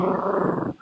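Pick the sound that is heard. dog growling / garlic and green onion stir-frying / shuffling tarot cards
dog growling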